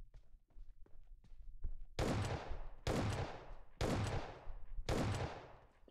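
Gunfire in PUBG Mobile, starting with a few faint distant shots, then four loud, booming shots spaced about a second apart, each with a long decaying tail.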